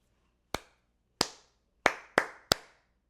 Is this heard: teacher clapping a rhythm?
yes